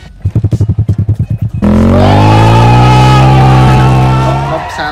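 A big European motorcycle with an aftermarket exhaust fires in a quick run of loud, sharp pulses, then revs into a sustained, very loud droning roar that eases slightly at the end.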